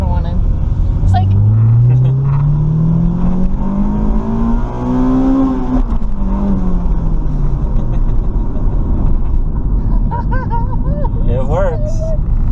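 A Honda Del Sol with a swapped B16 engine revs hard through a gear, the engine note climbing steadily into VTEC with a sharper, louder wail heard from inside the car, then easing off as people talk.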